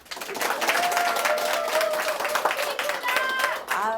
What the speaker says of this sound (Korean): 이런 환호 너무 좋아요.